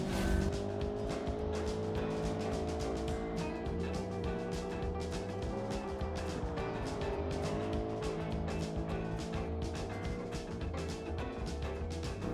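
A V8 supercar engine in the Automation racing game roars continuously at a race start, a loud, sustained, rising growl with no talk.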